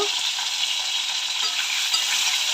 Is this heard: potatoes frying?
yes